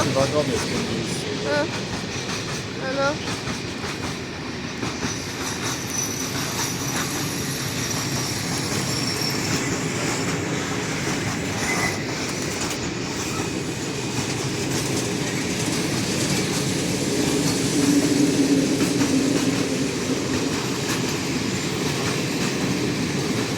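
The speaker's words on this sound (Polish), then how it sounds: "Proszę, skład towarowy z bykiem." A freight train passes through Poznań Starołęka station with a long, loud, steady rumble of wheels on rail and rhythmic clicks over the joints, plus a brief squeal, lasting the whole stretch.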